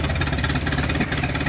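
1911 Buick four-cylinder engine of 165 cubic inches, running with its exhaust cutout open, a loud, close, rapid, chugging throb that stays steady throughout.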